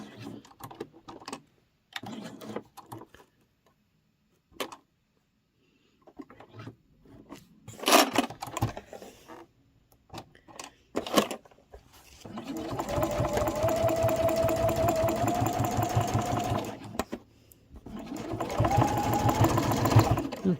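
A sewing machine stitches a cross body sling bag, running in two sustained bursts of rapid, even mechanical whirring. Earlier comes handling of the fabric and scattered clicks and taps, all close by.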